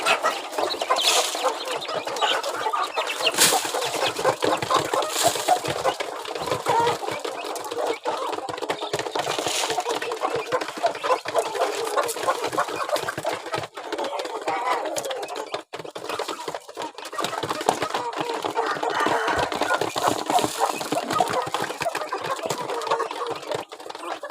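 Young Burmese game chickens and chicks cluck and peep continuously at an evening feeding of protein feed, a busy overlapping chorus close by with occasional louder calls.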